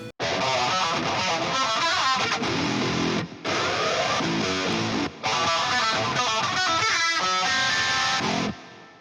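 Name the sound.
distorted rhythm guitar tone, Mixwave plugin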